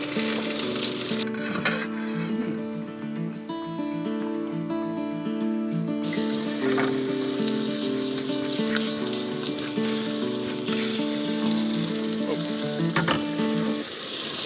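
Grilled cheese and a chorizo patty sizzle and fry in a pan at a campsite, a steady crackling hiss that runs the whole way through, with a faint steady hum underneath and no talking.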